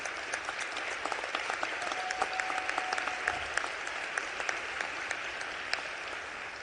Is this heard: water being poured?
no